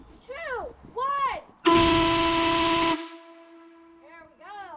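Britannia Mine's shift whistle blasts once, loud and steady for over a second with a hissing steam-like edge, then cuts off, with brief chirping sounds just before and after it.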